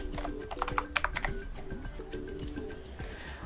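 Rapid typing on a computer keyboard, a quick run of light clicky keystrokes close by with an irregular rhythm, heard alone without talk.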